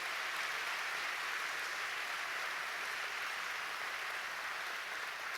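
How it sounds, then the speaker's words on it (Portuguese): A church congregation applauds the Lord during a Brazilian sermon, dense steady clapping from many hands filling the room evenly throughout, no voices heard over it. "dê um grande aplauso para o Senhor"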